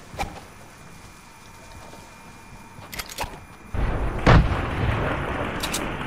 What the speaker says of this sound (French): la grenade elle a éclaté juste à côté de lui